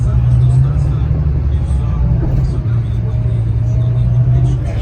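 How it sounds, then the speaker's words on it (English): Inside a moving bus during a pandemic trip between Ohrid and Struga, a steady loud engine drone and road rumble fill the cabin, with faint passenger murmur underneath. "First time on a bus during pandemic"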